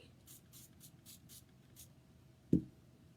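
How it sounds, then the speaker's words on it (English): Several short, soft hissing spritzes from a spray bottle in quick succession, followed by a single louder thump, with no talking. "Just give it a little spray."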